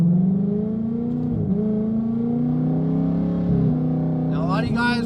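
A 2019 Mustang GT V8 is revved hard while driving, its loud, close engine drone climbing in pitch and dropping sharply at each shift, several times in a row.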